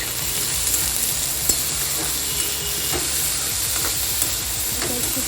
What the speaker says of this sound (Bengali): যখন শুকনো লঙ্কাটা সর্ষেটা ভাজা হয়ে যাবে সেই সময় আমি মিষ্টি আলুটা দিয়ে দিচ্ছি।